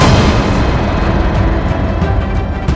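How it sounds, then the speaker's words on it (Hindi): Explosion in a crime drama scene: a loud, continuous rumbling blast with heavy low boom and crackling debris, sustained and dense throughout. "थोड़ी देर बाद वहाँ पे धमाका होने लगा।"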